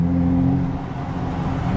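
Modded Chrysler 300 with a V6 engine rumbles and revs, a loud, close, steady low engine drone with a strong hum running throughout.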